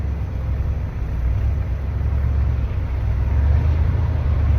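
A 1950 Ford F-1 pickup with a three-on-the-tree column shift pulling away in first gear; a deep, steady low engine drone builds slightly in loudness, heard from inside the cab with constant rumble and road noise and no talking.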